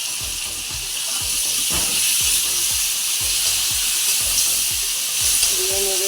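Green chillies frying in hot oil, a steady bright sizzle over a regular series of low thumps, moderately loud and continuous, with no speech.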